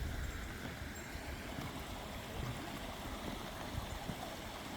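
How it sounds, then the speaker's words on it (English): A small creek runs beside a trail near Savage Falls, Tennessee, its steady broadband rush and gurgle continuing evenly and fairly close throughout, with no voices over it. "And this creek here."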